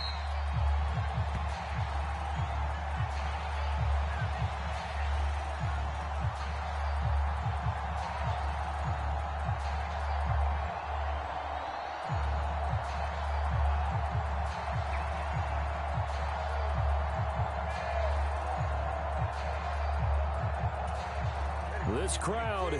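Steady stadium crowd roar in a PS4 football video game, a constant loud wash of voices underneath commentary, with a swell of cheering near the end.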